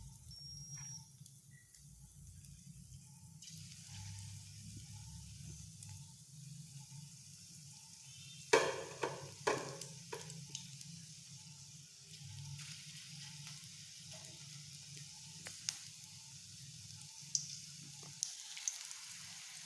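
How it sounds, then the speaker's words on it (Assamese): Pakoras dropped one at a time into a hot kadai of oil, giving a steady low sizzle with scattered bubbling pops and a few sharper crackles midway, close and continuous with no talking. "এতিয়া পকৰিকেইটা ভাজি যাম।"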